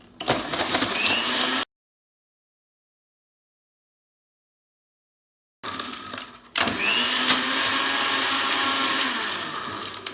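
A blender whirs loudly, mixing a chocolate banana smoothie with ice cubes, in two bursts separated by a few seconds of silence; the second run is long and steady.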